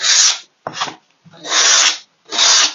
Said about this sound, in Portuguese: Lixa não muito grossa, no sentido que eu passei aqui